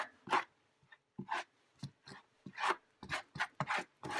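Paint is scraped over a surface while distressing artwork, giving a series of short, close rasping strokes in an irregular rhythm, fairly quiet, with no talk.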